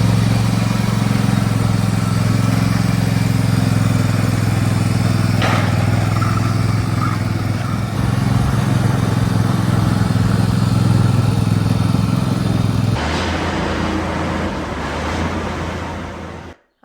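A big farm tractor's diesel engine idles and rumbles steadily at close range while it reverses to hook up a seeder, with a brief clank partway through and the engine note dropping near the end.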